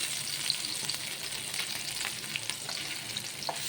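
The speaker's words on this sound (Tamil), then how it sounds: "எல்லா மீனும் லைட்டாக பரட்டி விட்டுருக்கேன்." Kumula and Vela fish frying in a pan, giving a steady, close crackling sizzle with scattered pops and spits throughout, fairly quiet and with no voices.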